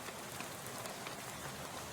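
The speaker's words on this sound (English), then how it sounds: "Oh, it's raining." Rain falls in the video game Shadows Over Loathing as a steady, even hiss of drops, soft and unbroken, with no voices.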